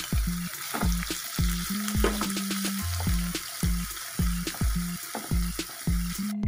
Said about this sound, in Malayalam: പനീർ നമുക്ക് ഇതിനകത്തേക്ക് ചേർത്ത് ഒന്ന് ചെറുതായിട്ടൊന്ന് മുരിച്ചെടുക്കാം